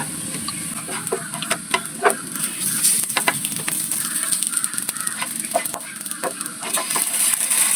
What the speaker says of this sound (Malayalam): ഇത് നമ്മൾ തിരിച്ച് ഇട്ട് ഒന്നും കൂടെ വേവിക്കുക